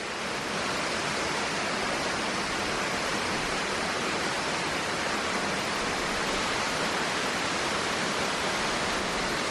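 A canyon waterfall pours in a steady, dense roar of rushing water, broad and unbroken throughout, with no voices.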